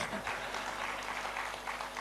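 Steady applause from a poetry recital audience, a dense patter of clapping that holds even and moderately loud throughout with no speech on top.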